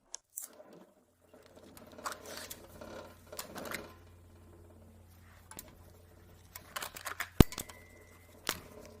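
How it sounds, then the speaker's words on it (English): Oiled tappets are fitted into the block of a high-mileage engine during a major overhaul, giving sparse, light metallic clicks and taps. One sharper knock sounds near the end, over a quiet workshop background with no talking. "I lubricated the hose for the tappets with oil and now I'm installing them."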